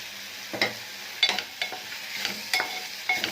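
Cinnamon, cloves, cardamom, ginger-garlic, curry leaves, green chillies and onion frying in ghee, a soft sizzle under intermittent stirring scrapes from a spoon in the pan, close and fairly quiet, no talking.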